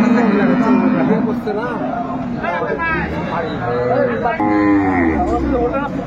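Cattle moo loudly and repeatedly among dairy cows and calves at a crowded livestock market in Aftabganj, Dinajpur, with people talking throughout.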